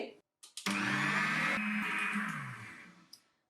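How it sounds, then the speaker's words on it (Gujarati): A stand mixer whirs loudly while beating soaked lentil batter for dahi vada. It starts abruptly and runs as a dense, even whine for a couple of seconds before trailing off. "સ્ટેન્ડ મિક્સરની મદદથી આ દાળને ફેટી શકો છો"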